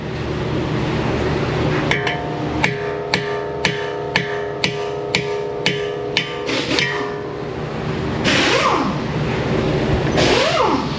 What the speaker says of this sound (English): We'll hammer the old ones out.